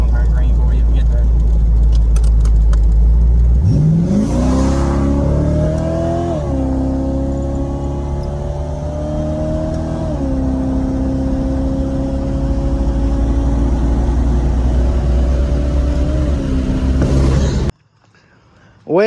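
A 1987 Pontiac Firebird engine revs loudly while driving, rising steeply in pitch then holding a sustained whining drone for long stretches before cutting off abruptly near the end.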